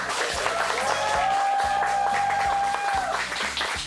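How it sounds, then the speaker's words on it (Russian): Brief burst of audience applause from studio spectators and experts at a Greek and Balkan chef cooking competition, a steady dense clapping wash over low background music. "Искренние овации вам, зрители, и вам, эксперты."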